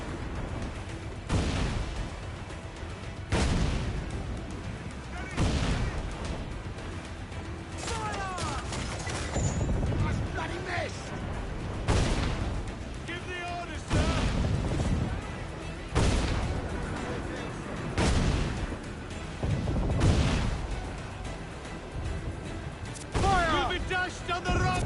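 Ship cannons boom in a broadside during an Assassin's Creed 4 Black Flag naval battle, heavy blasts roughly every two seconds with wooden creaks between, while voices talk over the fighting.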